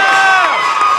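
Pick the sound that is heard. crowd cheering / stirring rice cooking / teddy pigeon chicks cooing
crowd cheering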